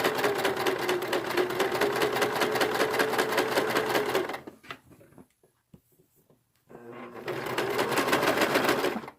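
A sewing machine stitches a t-shirt seam, running loud and close in a fast steady buzz, pausing for a couple of seconds, then starting again.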